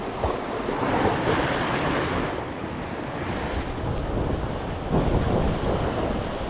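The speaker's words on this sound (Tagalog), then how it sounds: "Lakas ng alon." Strong ocean surf breaking on the shore during shallow-water lure fishing, a loud continuous roar of waves with wind buffeting the microphone, swelling and easing without any voices.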